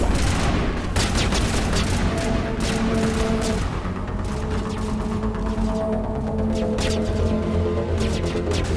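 Sustained gunfire in Mass Effect Legendary Edition, a dense fusillade of rapid sharp shots with booming impacts, loud and continuous throughout a combat exchange.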